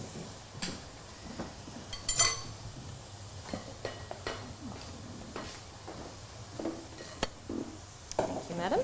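Meatballs frying and browning in a pan, with a steady sizzle broken by scattered clinks and scrapes of utensils against cookware, close and fairly quiet, with no talk.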